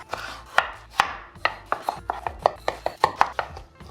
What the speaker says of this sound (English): Start by cutting each of the tomatoes into quarters.